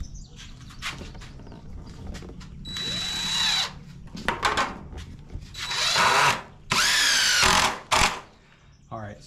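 Power drill driving screws with a Torx bit during assembly of a small chicken coop, heard in several loud whirring bursts of a few seconds each, separated by short pauses and background activity.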